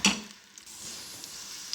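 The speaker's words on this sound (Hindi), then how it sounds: "घी मेरा गरम हो गया तो मैंने इसमें 2 टेबल स्पून छोटी सी हाफ प्याज, इसको मैं हल्का सा गोल्डन करूँगी" Half an onion sizzling in hot ghee for a khichdi tadka, a soft steady hiss after a sharp opening clatter, close and short, with no talk.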